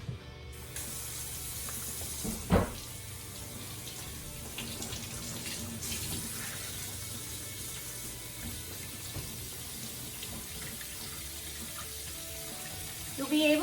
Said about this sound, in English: I'm gonna thaw my stock by running warm water on this